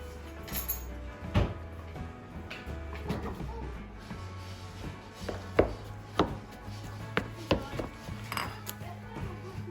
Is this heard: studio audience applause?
no